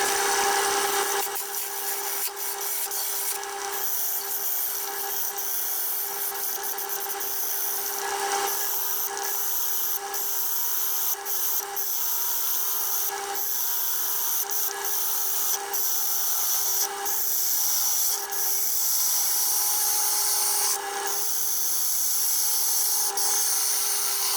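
A wooden bowl with leftover epoxy spins on a lathe chuck while a tool cuts it, giving a loud, continuous hissing scrape over a steady motor tone, broken by brief dips as the cut shifts, with no speech.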